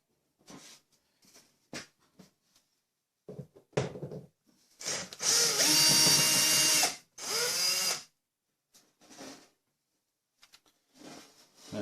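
Electric cooker with a burnt-out heating element being dismantled: scattered tool clicks and handling noises, then a loud buzzing power tool running for about three seconds as screws are undone, followed by more clattering handling.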